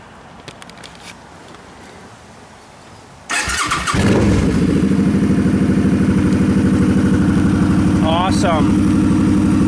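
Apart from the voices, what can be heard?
Suzuki Boulevard C50T motorcycle engine starting and idling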